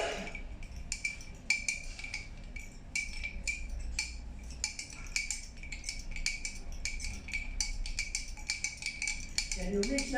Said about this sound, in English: I want you to continue to stir